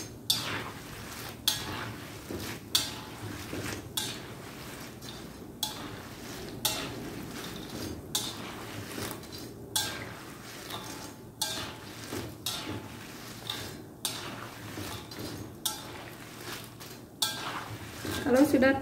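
Spring rolls (lumpia) frying in hot oil in a home kitchen, a steady low sizzle and bubble beneath repeated sharp clinks of a metal utensil against the pan, close and moderately loud.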